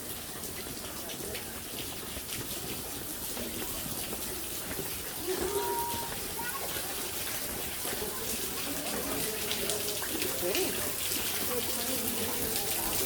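Water runs continuously inside Mammoth Cave, a broad rushing wash that fills the space and grows slightly louder midway, with faint voices underneath.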